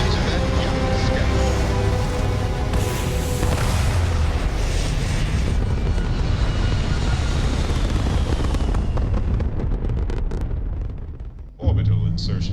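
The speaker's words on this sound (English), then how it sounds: "Let's take off. Liftoff initiated, Captain." Spaceship liftoff in the video game Starfield, a loud, dense, continuous rumbling roar of engines that holds for about ten seconds, then fades into thinner noise before a sudden jolt at the end.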